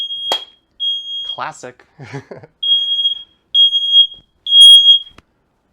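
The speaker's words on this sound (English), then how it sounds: "We are not cooking unless the smoke detector is going off." A smoke detector shrills repeatedly while tacos fry in a pan, its piercing electronic beeps sounding in loud, regular bursts close by, with a person's voice cutting in briefly between the early alarm pulses.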